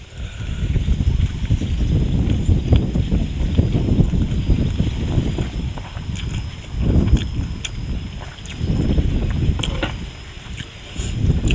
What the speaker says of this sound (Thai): โอ้อาจจะมีเสียงลมแน่ด้วยพี่น้องเด้อ